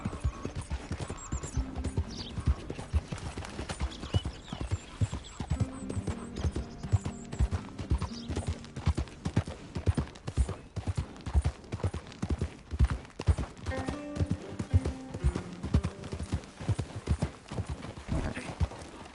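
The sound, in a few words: horse hooves clip-clop in video game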